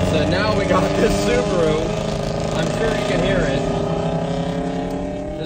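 Modified C8 Corvette accelerating in a race, its engine rising loud and close with a sustained rev through the gear, tone sweeping up as the car pulls.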